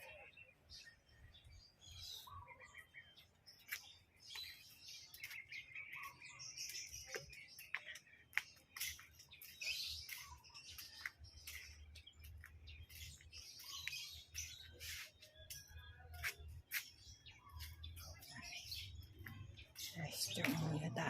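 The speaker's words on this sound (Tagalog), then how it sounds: "Yung mga ibon." Birds in a garden in the northern Philippines chirp in short, scattered calls, faint and somewhat distant over a soft background hum.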